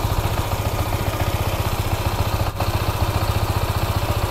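Honda PCX 160 scooter, a 2021 model with a 160 cc engine, running steadily with an even, rapid pulsing throb and a brief dip midway, heard close and alone.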